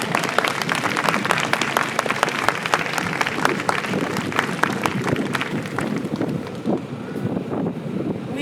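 An audience at a film premiere applauds the cast, sustained close clapping with sharp individual claps standing out, tapering off near the end.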